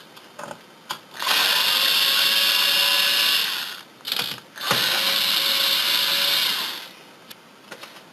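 Torx screws come out of the drive bay of a PS3 Super Slim under a powered screwdriver: two long, loud whirring runs with a brief burst between them, and small clicks before and after.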